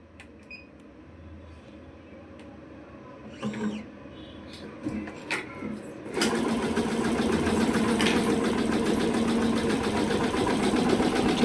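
Computerized embroidery sewing machine stitching a design, starting quietly with a few clicks and whirs, then running at a steady fast mechanical rattle that stays close and constant to the end.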